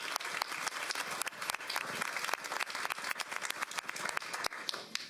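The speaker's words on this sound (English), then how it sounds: "So another round of applause," An audience at a school board of education meeting applauds, a continuous, dense patter of many hands clapping at moderate volume with sharper individual claps standing out.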